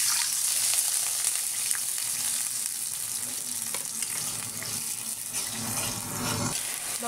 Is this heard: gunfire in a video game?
no